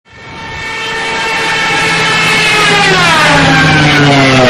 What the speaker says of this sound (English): The loud noise earlier was the sound of sirens from the German fighter aircraft Junkers 87, commonly known as the Stuka.